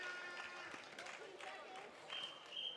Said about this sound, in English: The crowd give her huge applause.